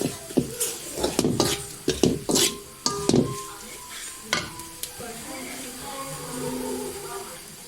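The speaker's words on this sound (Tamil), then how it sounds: "நல்லா வதக்கிட்டு இருக்கு" Chicken gravy masala sizzles in a pan while a spoon scrapes and knocks against the metal in quick, close strokes, the stirring easing into a steady frying hiss; a voice speaks briefly.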